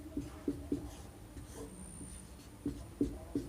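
Pen or chalk writing by hand during a Hindi-language class 10 trigonometry math lesson, a quiet series of short scratchy taps in small clusters, alone and faint.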